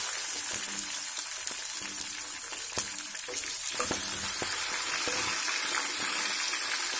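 Green chillies frying in hot oil as a tempering for upma give a loud, continuous crackling sizzle with scattered sharp pops, close up and steady throughout.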